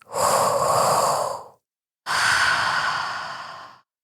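Two long, deep, close breaths during a guided breathing exercise, each an airy rush lasting about a second and a half, separated by a short silence.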